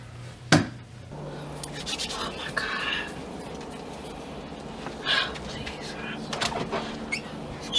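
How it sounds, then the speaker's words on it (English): A door is banged on in a tense indoor scene: one sharp, heavy thump near the start, then a few fainter knocks later, all mixed with low voices and background noise. "Banging on the door."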